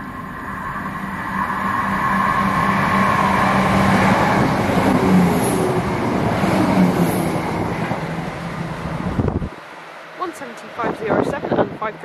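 A train thunders past close to a level crossing on the line between Nottingham and Loughborough, a loud sustained rumble and rattle of wagons lasting about nine seconds before cutting off abruptly, followed by quiet with a voice talking.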